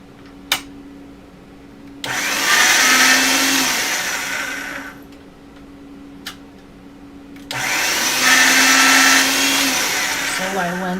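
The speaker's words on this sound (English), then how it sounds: "get it through the machine first on the thickest and then the next one" Polymer clay is fed through a rolling machine on thick and then thinner settings, giving two loud, whirring motorized passes of a few seconds each, separated by quieter pauses with a few small clicks.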